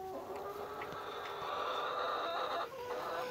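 Orpington chickens on a small farm, with steady soft clucking and a few higher calls over a constant background hum, at moderate distance.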